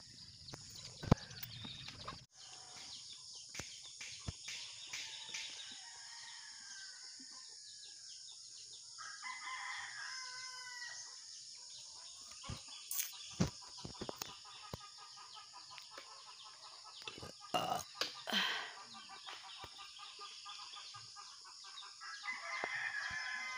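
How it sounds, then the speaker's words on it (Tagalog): Hens cluck on and off while a rooster crows at a distance, with a steady background hum and a few sharp knocks, no one speaking. "Kasi nagkulong ng manok."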